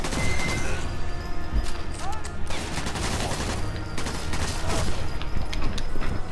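Repeated gunfire from the video game Sniper Elite 4, including sniper rifle shots, crackles throughout as a dense, loud burst of shots over a busy battle background.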